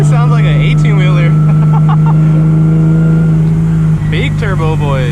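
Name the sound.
900hp turbo Nissan 370Z engine revving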